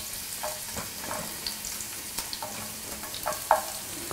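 Thinly sliced garlic cloves sizzle in a drizzle of olive oil in a pan, with a soft, continuous crackle and scattered sharper pops at moderate, fairly quiet volume.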